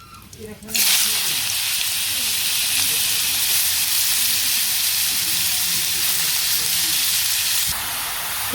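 Bottle gourd pieces drop into hot oil with cumin seeds in a village kitchen, setting off a loud, steady sizzling hiss that runs without a break before easing off slightly near the end.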